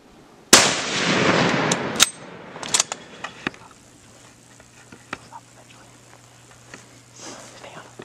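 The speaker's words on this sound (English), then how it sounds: "Okay, go ahead. Shoot again, shoot again." A rifle shot at an Oregon blacktail deer buck: one sharp loud crack followed by a long rolling echo, then several lighter clicks and taps from handling the gun outdoors.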